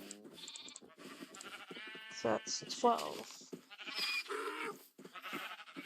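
Sheep bleating in the video game Minecraft, several short nasal bleats in a row, close and clear, mixed with a person talking over the top.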